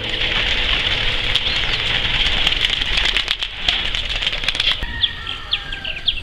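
Racing pigeons flap their wings in a hot, humid loft the day before a long race, a busy close flutter over steady background noise, with a few sharp, separate wingbeats near the end.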